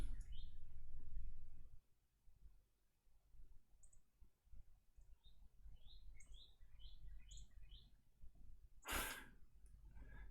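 Small bird chirping outdoors during a chess stream, a scattered series of short high tweets spread across several seconds, faint and distant behind low room noise, with one sharp click midway.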